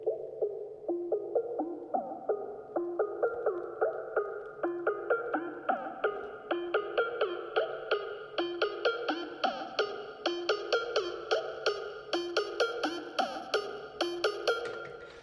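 An electronic music drop melody drenched in effects plays steadily in a rhythmic, pulsing pattern. It brightens and builds toward the end with no voices.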